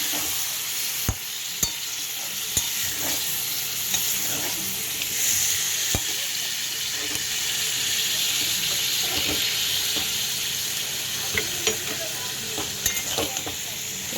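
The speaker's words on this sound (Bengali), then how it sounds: "চলো এটাকে ভালো করে নাড়াচাড়া করে নিই" Chunks of bottle gourd sizzle in a hot wok as they are stirred steadily with salt for a gourd-and-prawn dish, with soft scraping and clicking strokes over a constant frying hiss and no talking.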